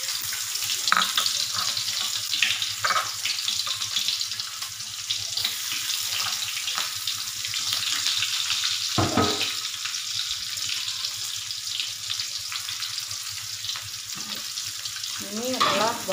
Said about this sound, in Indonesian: saya goreng bawang dulu ya.